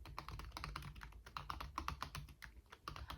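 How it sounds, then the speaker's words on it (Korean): Rapid, irregular clatter of fingers on a computer keyboard, steady bursts of keystrokes with brief pauses, close and fairly quiet in a still room with no talking. "바른 자세로 앉아 키보드를 두드린다"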